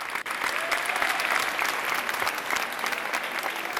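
Strong, steady applause from an award ceremony audience in Vienna as the honoree comes on stage, dense continuous clapping at an even level throughout.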